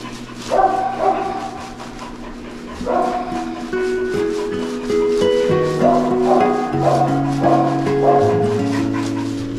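A rescued dog, a Tosa from a dog farm, barks and yips repeatedly in loud bursts close by, with whimpering between barks over a steady background hum.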